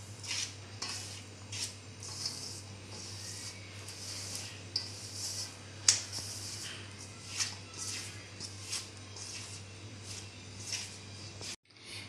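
Flour dough for Ratlami sev is mixed by hand with a pinch of soda and oil, giving faint, rhythmic rubbing and scraping strokes in a bowl over a low steady hum.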